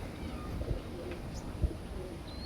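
A pigeon coos softly a couple of times against a low background hum, with faint chirps in the distance.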